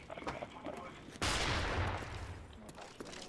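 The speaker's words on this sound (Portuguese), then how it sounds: "tô ouvindo tiros à direita" Gunfire in the Call of Duty Black Ops hardcore team deathmatch game on PS3, a sudden loud burst of rapid shots with a rumbling tail, followed by a few fainter distant cracks.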